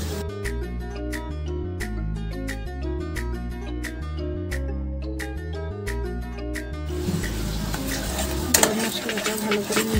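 Music plays for most of the stretch, then gives way near the end to a few seconds of scraping and clattering as sugar and garam masala are stirred in a pan for Bengali vegetarian doi begun.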